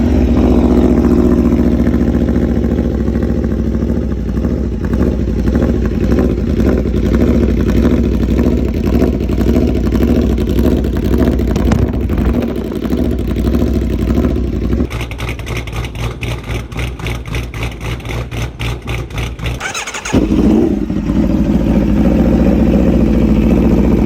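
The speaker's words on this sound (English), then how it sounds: "As you can hear the exhaust, the idle is nice and steady" Aprilia RSV4 superbike with a CRT exhaust and an ECU flash tune idling steadily and close by, a smooth, even burble with a brief dip in level near the end, no talking.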